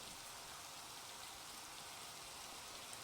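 Steady rain pours down in modded Minecraft, a dense, even hiss that stays constant and fairly quiet throughout, with no voices over it.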